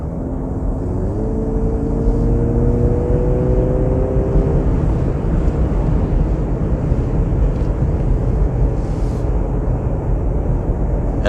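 A 2023 Mercedes GLC AMG 400e SUV cruises in sport mode on a highway lane, a steady loud road and wind roar with a faint rising engine tone early on, no talking.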